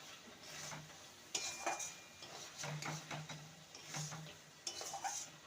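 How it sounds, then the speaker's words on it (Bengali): Cooked snake gourd (chichinga) is stirred in a pan, with soft scraping strokes in short bursts over a quiet, faint sizzle. "এবার এটাকে ভালো করে নেড়ে নেব"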